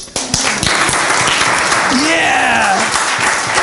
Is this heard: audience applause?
yes